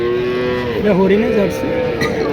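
A Holstein Friesian cow moos in a long, low, wavering call that rises and falls, close by, with cattle market background noise and no talking.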